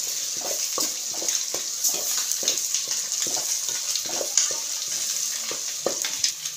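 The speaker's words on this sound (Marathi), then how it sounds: "आणि मसाला मस्त काढायला टाकला आहे, तेलामध्ये फ्राय होतोय" Spice masala frying in hot oil for a chicken dish, a steady close sizzle with a bright hiss and intermittent stirring scrapes and taps, no talking.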